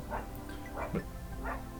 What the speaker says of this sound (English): My dog barking.